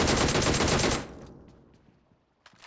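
A rapid burst of automatic gunfire in PUBG Mobile rattles loudly for about a second, then cuts off into quiet with a faint decaying tail and a soft distant shot near the end.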